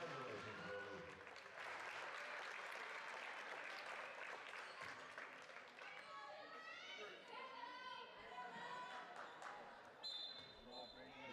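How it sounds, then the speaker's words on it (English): Fans in a high school gym applaud during a varsity girls basketball game between Morris and Manteno as Lily Hansen passes 1,000 career points. Clapping and crowd chatter fill the space, with ball bounces, squeaking sneakers and voices mixed in, all distant and faint. "Let's give her a huge round of applause for Lily Hansen on this outstanding accomplishment."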